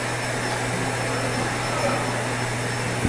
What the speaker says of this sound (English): So there's gonna be some vacuum noise in the background